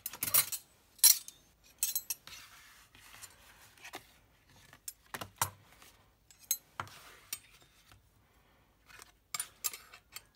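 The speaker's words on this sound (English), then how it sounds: "So we just need some cutlery in there." Cutlery is dropped and slid into a Christmas cutlery holder, producing a scattered series of sharp metallic clinks and rattles, some clustered and some isolated, close and fairly quiet.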